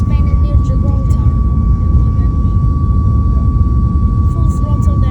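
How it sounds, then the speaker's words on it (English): Airliner jet engines spool up to full takeoff thrust on a departure from Fuerteventura, a loud, steady broadband roar filling the whole clip with a constant tone riding above it. "Full throttle, there it goes, and now it's just gonna go into the air any second."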